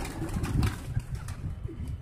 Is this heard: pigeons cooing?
yes